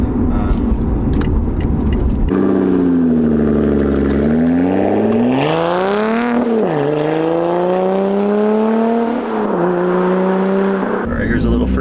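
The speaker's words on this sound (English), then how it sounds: "Here's a little first gear pull." Lotus Evora 400 pulling hard in first gear from inside the cabin, the engine note sweeping up in pitch to a loud peak, dropping at the shift, then climbing again steadily, with brief talk at the start.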